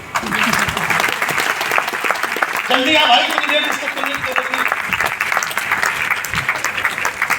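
Audience at a success celebration claps loudly and steadily throughout, with someone talking over the applause.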